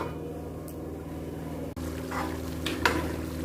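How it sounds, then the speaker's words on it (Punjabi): Taro (arbi) curry gravy simmers in a pot on low heat, giving a steady, close bubbling and sizzling hiss throughout with a few faint clinks on top. "ਇਹ ਜਿਹੜੀ ਸਬਜ਼ੀ ਆ ਇਹ ਵੀ ਘੱਟ ਤੇ ਕਰ ਦਿੱਤੀ ਮੈਂ ਰਿੱਝਣ ਲੱਪੀ ਆ"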